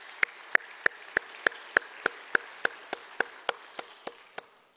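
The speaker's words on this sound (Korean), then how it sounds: "박수 한번 같이 할까요?" A church congregation at a special early-morning prayer service during Holy Week claps in unison, about fifteen sharp, evenly spaced claps that gradually soften and fade out, with no talking.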